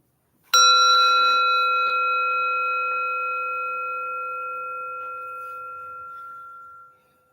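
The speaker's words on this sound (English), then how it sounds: "I'll start with ringing the bell" A single meditation bell is struck once, ringing out clear and bright, then its pure tone slowly decays over several seconds into silence.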